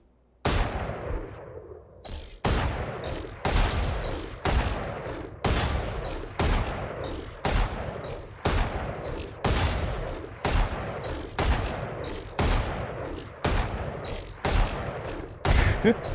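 Loud, close gunshots in a video game fire one at a time at a steady pace of about one per second, each a sharp crack with a short decaying tail, continuing throughout with no talk.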